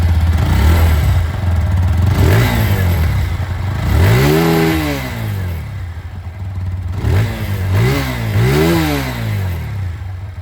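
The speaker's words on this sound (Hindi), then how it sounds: "तो यहाँ पर ये 2V की आवाज़ सुन लिया आप लोगों ने अपाचे की।" A TVS Apache 160 2V motorcycle revs its exhaust up and down several times, each throttle blip rising and falling in pitch over a steady idle, loud and close, with no talking.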